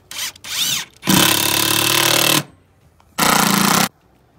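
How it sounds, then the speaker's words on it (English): A power drill pre-drills a wooden decking board with a 1/8 inch bit ahead of 2.5 inch decking screws, giving two loud whirring bursts, one long and one short, with brief handling noises before them. "I'm going to pre-drill it with an 1/8 inch bit."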